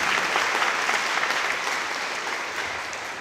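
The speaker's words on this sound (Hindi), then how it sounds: "एक बार ताली बजा दें।" Audience clapping at a church gathering, a dense burst of applause that stays full and even and then eases off slightly toward the end.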